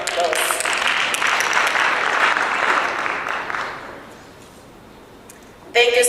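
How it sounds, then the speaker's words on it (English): Audience applause at a national health insurance sectoral engagement event, a broad wash of clapping that holds steady for several seconds, then thins out and fades before a voice resumes. "A round of applause."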